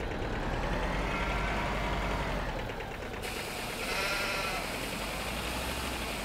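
Sheep bleating in the farming video game Farming Simulator 15, heard as a steady, loud wash of game sound with repeated bleats blended into constant background noise and no talking.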